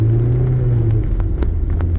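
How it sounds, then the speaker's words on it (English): A 1980 Porsche 924 engine revs on a back road, a steady close rumbling drone with a low tone that shifts partway through as the revs change, heard alone with no talk. "There's a lot of engine inertia, but it still spins up okay"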